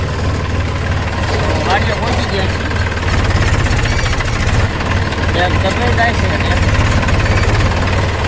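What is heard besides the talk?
farm tractor engine running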